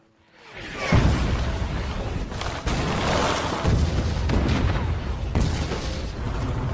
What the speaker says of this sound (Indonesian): Setelah serangan artileri Jerman selesai